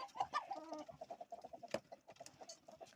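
Hens and a rooster cluck in quick, repeated bursts during evening feeding, with a sharp squawk partway through; fairly close and continuous, no voices.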